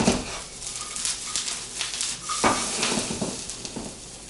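Onions caramelize in a pan, a steady sizzle running under the clink and scrape of a utensil stirring against the metal, all close by.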